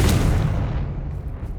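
A Confringo blasting curse explodes in Hogwarts Legacy, a single loud booming blast with a sharp onset that rolls off into a short decaying rumble.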